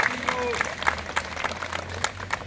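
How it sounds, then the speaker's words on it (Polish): Concert audience in a palace hall applauding, a steady wash of many hands clapping with scattered sharper claps and some crowd murmur and talk under it. "Państwu też się należą brawa."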